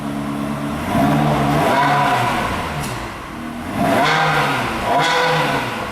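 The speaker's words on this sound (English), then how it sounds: "This car is all warmed up. I'm just going to give you a couple revs." A warmed-up 2003 Ferrari 360 Spider F1 engine is blipped several times while stationary, each rev swelling sharply and falling back to a throaty idle, loud and close.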